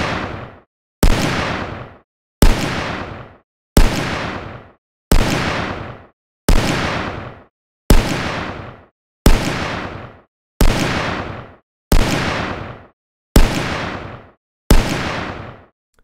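Twelve booming gunshot samples from a video game weapon fire one after another at a steady pace of about one per 1.3 seconds. Each is loud and punchy with a sharp attack and a short decaying tail, and no one speaks.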